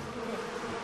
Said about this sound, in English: No, F off, bees.